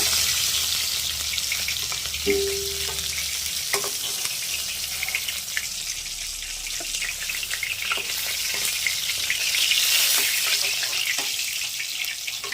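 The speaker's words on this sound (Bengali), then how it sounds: "বাকি মাছগুলো আমি সব এইভাবে করে ভেজে নেব।" More bhola fish pieces fry in hot oil in a home kitchen, a continuous crackling sizzle with scattered pops and clinks from nearby utensils, rising slightly louder toward the end.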